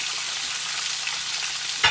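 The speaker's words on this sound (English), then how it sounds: "Okay, now we're going to sear this for 4 minutes." Chicken pieces searing skin side down in a stainless steel skillet, a dense, steady sizzle close up, continuous and even, with a small knock right at the end.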